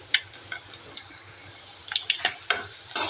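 Okra frying in a pan with a little oil, giving a faint steady sizzle broken by sharp scraping and tapping from a spatula, nearby and without speech.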